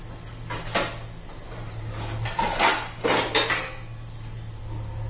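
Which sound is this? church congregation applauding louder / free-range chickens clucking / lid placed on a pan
lid placed on a pan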